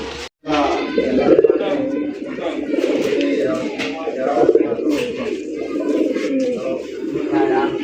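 Fancy pigeons, including Bombay breeds, cooing for sale, with repeated throaty coos close by mixed with people talking and general bustle throughout.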